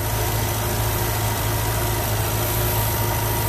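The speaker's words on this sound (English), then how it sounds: "And that is a 12-cylinder, 6-liter twin turbo." A 2009 Bentley Continental GT's 6-liter twin-turbo W12 idles nearby with a smooth, steady low hum and slight vibration, unbroken and without voices.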